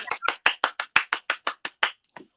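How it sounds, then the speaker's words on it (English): Crisp, close claps from a single pair of hands, about eleven evenly spaced strikes in a steady rhythm, then a pause and one softer final clap, with no talking. "But just other people clapping."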